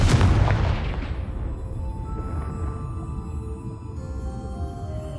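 A Confringo blasting spell in the Hogwarts Legacy video game goes off as one heavy, punchy blast at the start, then fades into a long rumbling tail over low ambient game sound.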